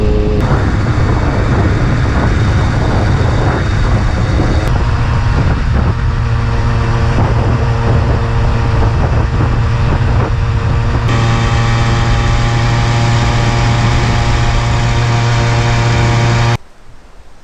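Steady engine drone of a moped ridden on a warm day through Russia's Altai and southern Siberia, loud and continuous with wind buffeting the mic, a shift in pitch midway as the speed changes, then cutting off abruptly near the end.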